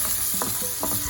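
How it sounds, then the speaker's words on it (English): Garlic and onions sizzle in rendered bacon grease, a close steady frying hiss broken by a few quick stirring scrapes. "we're gonna use that bacon grease to saute our garlic and our onions"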